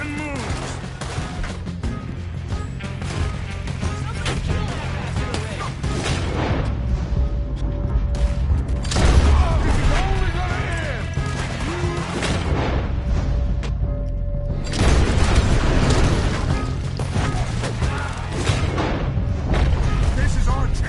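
Sustained gunfire and heavy booms from a PS4 shooter game fill a long firefight, dense and loud throughout, with shouted voices breaking in over the barrage.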